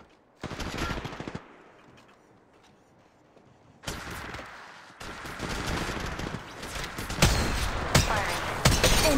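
Automatic weapons fire in the Apex Legends video game, played on the Gameloop emulator. A sharp burst of rapid shots comes first, then a quieter stretch, then repeated, sustained volleys that grow louder and more crowded toward the end.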